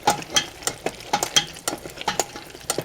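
A hand-cranked food mill straining tomatoes for sauce, making a steady rhythmic scrape and clack about three times a second, close and moderately loud.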